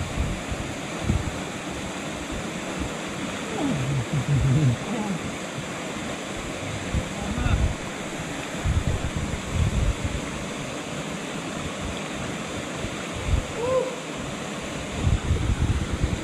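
One of the Agura waterfalls near Sochi gives off a steady, continuous rushing roar of falling water, with some wind buffeting the mic and faint voices now and then.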